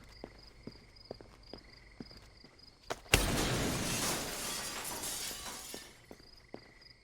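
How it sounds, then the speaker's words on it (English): A glass wall bursts apart under a punch in Splinter Cell: Chaos Theory, one sharp loud crash followed by a few seconds of cascading shards, framed by soft footsteps before and after. "Sam just punches a glass wall."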